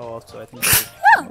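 A person gives a single short, sharp sneeze among people talking and game sounds.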